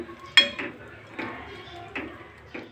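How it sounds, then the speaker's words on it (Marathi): Spoon scraping and clinking against a pan while vegetables are stirred during home cooking of a bhaji, four or five distinct stirring strokes at a relaxed pace, close and fairly quiet. "मी भाजी घातलेली आहे मिक्स करून घेऊया"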